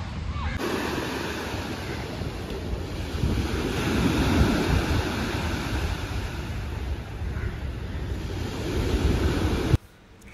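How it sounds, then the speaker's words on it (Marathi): Foamy sea waves wash continuously onto a beach, a loud, steady rush of surf with heavy wind buffeting the microphone for nearly the whole stretch. "समुद्राचा छान फेसाळता लाटांचा आवाज ऐकून मग मी निघाले."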